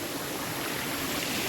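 A forest stream flows in a steady, bright rushing wash, close and unbroken throughout the short stretch, with no voices.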